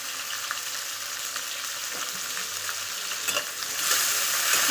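Onion and tomato fry in a pan with a steady bright sizzle and occasional spatula scrapes, close by, growing slightly louder toward the end.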